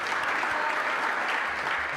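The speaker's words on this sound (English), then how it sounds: "Round of applause for our 23 finalists first of all though." Dense applause from an indoor audience at a motorsport awards event honoring the finalists, steady and sustained throughout with no speech over it.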